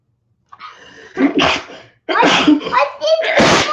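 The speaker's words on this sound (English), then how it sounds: "That was me sneezing." A person sneezes several times in quick succession, loud and close, with sharp bursts of breath and voice.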